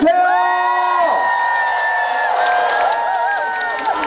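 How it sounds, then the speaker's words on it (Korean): Outdoor festival crowd in Goryeong, Korea, applauding and cheering for a trot singer, with loud sustained clapping, whoops and shouts filling the clip as a sung or held melodic tone rings over it. "우리 이찬원님께 박수 크게 한번 들려주세요."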